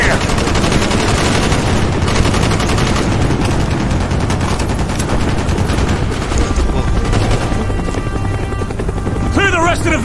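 Dense, loud gunfire including sustained machine gun bursts rattles through a Vietnam village firefight in Call of Duty: Black Ops, with a helicopter drone and shouting voices mixed in throughout.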